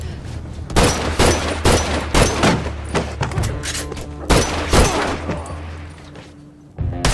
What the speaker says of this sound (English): Watch the shotgun.